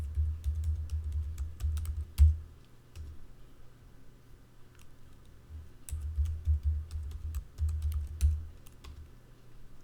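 Quiet keystrokes on a computer keyboard entering an SSH passphrase: two short bursts of rapid tapping separated by a pause, close and soft with no talk.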